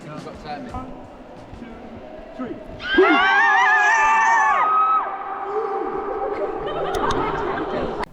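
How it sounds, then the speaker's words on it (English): Several people scream loudly together inside a bat cave, a sustained echoing shriek of about two seconds, followed by laughter and chatter. "we got granted the opportunity to scream"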